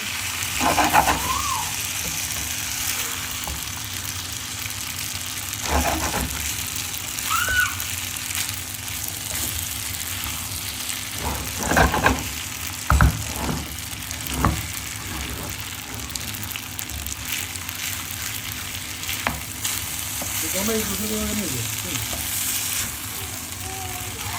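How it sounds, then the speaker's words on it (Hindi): Spaghetti is cooked in a pot of boiling water in a home kitchen, a steady bubbling hiss with occasional clinks and stirring knocks, and a voice talking now and then. "अब स्पैगेटी बना रही हूँ, पानी बॉयल हो गया है, डाल देती हूँ अभी"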